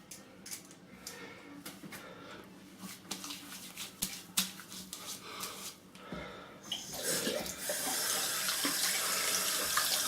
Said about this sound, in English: So we've had a warm water rinse,